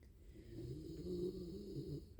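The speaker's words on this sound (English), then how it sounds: "Now he's over there snoring." A pet, a small energetic one, snoring while asleep nearby: soft, steady rasping breaths repeating in a low, quiet rhythm with no talking.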